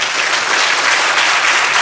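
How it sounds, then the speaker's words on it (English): Dense, steady applause from a conference audience fills the room throughout, close and loud, at the opening ceremony of the 2nd GAMHA mental health summit in Taiwan, 2019. "So we should give him a big applause."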